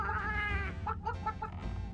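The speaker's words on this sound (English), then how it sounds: "making chicken sounds along with the chicken" A chicken in the Earthworm Jim 3D video game clucks in a quick run of short, close, fairly loud calls, with no other sounds.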